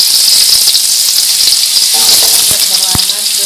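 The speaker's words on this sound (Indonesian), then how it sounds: "Kita goreng kentang" Potatoes sizzle steadily frying in hot oil, a loud continuous crackling hiss with a few soft clinks of a utensil near the end.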